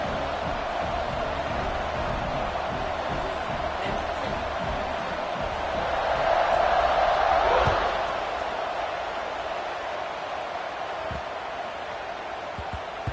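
A steady stadium crowd roars at an NCAA 26 college football video game, a broad continuous wash that swells louder midway before settling back, with no talk over it.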